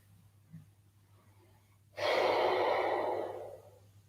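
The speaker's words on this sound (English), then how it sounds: "Take a couple of deep breaths" After quiet stillness, one long deep exhalation during morning pranayama breathing practice rises suddenly and stays loud and breathy for about a second and a half before fading gently.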